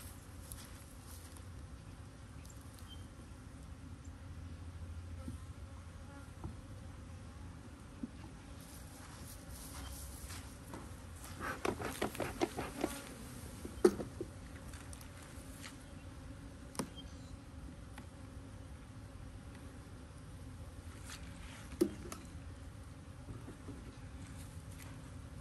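Honey bees swarm around opened hives packed with swarm cells, a soft continuous hum with individual bees buzzing close past the microphone, some passes louder and nearer than others.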